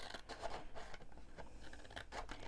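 Scissors cutting paper to shape a Halloween cracker, a series of quiet crisp snips and crunchy slices at close range, irregularly spaced with no talking.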